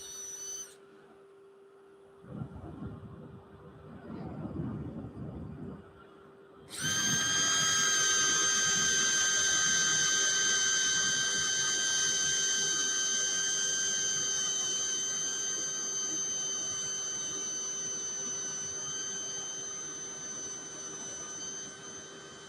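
A power tool briefly whirs in short bursts, then a drill angled into live-edge wood spins up to a loud, sustained high whine that runs steadily and slowly fades.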